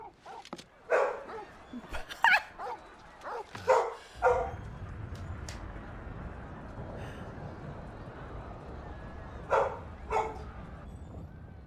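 A dog in the Final Fantasy 16 video game gives a run of sharp barks and yips over soft ambient game sound, goes quiet, then adds a couple more yelps near the end.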